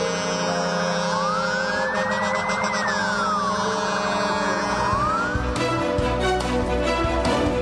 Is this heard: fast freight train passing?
no